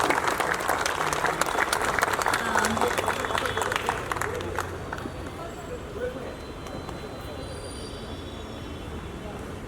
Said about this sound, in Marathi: वादकांसाठी जोरदार टाळ्या झाल्या पाहिजेत.